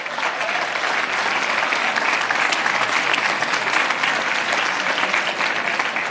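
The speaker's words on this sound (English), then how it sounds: "Let's give them a big round of applause." A crowd at an Italian Heritage Reception applauds loudly and continuously, a dense, even wash of clapping that holds steady for several seconds with no speech over it.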